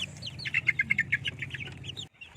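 Young chicks peep repeatedly while being fed, a rapid series of thin, high chirps over a low background hum, fairly faint and close, ending briefly in quiet.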